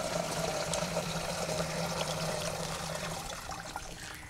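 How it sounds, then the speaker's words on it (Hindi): Two litres of water pour into the tank of a crop sprayer, a steady splashing stream that gradually weakens toward the end, with no talking. "एक हम 2 लीटर पानी इस स्प्रे में डालेंगे और देखेंगे कि कितना पानी इसमें से खर्च होता है।"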